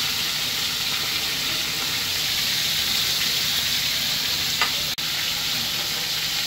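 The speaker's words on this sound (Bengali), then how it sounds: "প্রথমে যে মাংসগুলো ভেজে নিচ্ছি" Chicken pieces fry in a pan with a constant close hiss and crackle, a faint stirring scrape, and one sharp click near the end.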